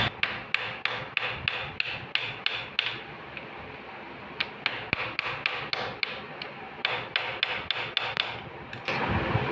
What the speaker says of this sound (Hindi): हथौड़ी की मदद से इसको चोट लगाएंगे ताकि ये चेक नट जो है हमारा ये टाइट हो जाए।